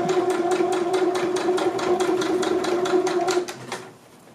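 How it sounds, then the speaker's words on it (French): A sewing machine runs steadily, stitching a fabric tube for a Liberty-print bomber jacket sleeve with a fast, even rhythm, loud and close, then slows and stops near the end. "Et puis, eh bien, on va coudre tout le long."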